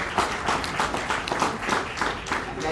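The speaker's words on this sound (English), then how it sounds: "So give them a round of applause." An audience claps in sustained applause at a marathon press conference, dense, steady clapping from a nearby crowd with a faint voice or two mixed in.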